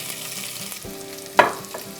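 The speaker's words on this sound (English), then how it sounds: "Nice sizzle." Onions and carrots sizzle steadily in hot cooking oil in a pan, a close, continuous frying hiss with a brief sharper burst of spitting and stirring partway through.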